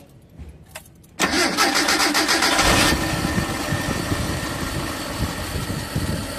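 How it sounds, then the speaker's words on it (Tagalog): A Mitsubishi L300 engine cranks briefly, catches and roars loudly to life, then settles into a steady, close idle after a short burst of revving. "pwede ko nang i-start itong makina"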